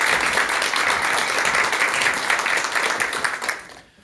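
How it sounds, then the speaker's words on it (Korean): An audience in a lecture hall applauds to welcome a speaker before a talk on empathy, a dense burst of clapping that holds steady and then fades out over a few seconds. "큰 박수와 함께 박사님의 강의 청해 듣도록 하겠습니다."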